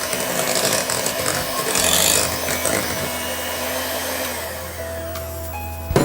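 A hand blender beats wheat cake batter with curd, giving a steady motor whir with scraping and rubbing against the bowl that runs for several seconds and ends in a brief clatter.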